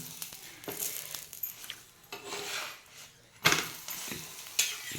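An aloo paratha roasts with ghee on a pan, giving a soft sizzle under intermittent clanks and scrapes of a utensil against the metal, with a few sharper knocks standing out.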